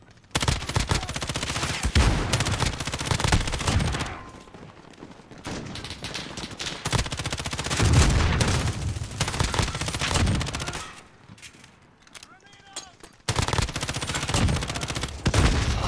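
Bursts of gunfire in the battle-royale shooter Modern Warfare Warzone, loud rapid automatic volleys repeating across the stretch, with brief quieter gaps between them.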